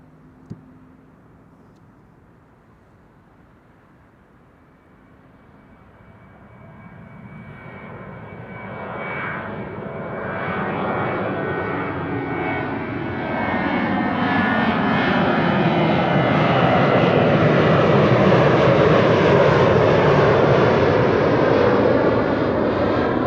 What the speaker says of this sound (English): But first, KLM Flight 1231 to Göteborg.